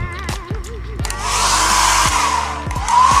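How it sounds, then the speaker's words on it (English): Hair dryer blowing on a water-damaged phone, a loud steady whooshing airflow that starts about a second in and runs continuously, with some clunking handling noises beforehand. "You can hair dry it."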